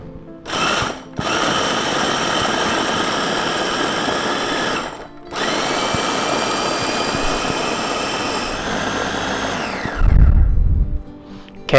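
An electric food processor chops oats in two long, loud whirring bursts separated by a brief pause, its motor whining steadily before winding down, followed by a low thump as it stops.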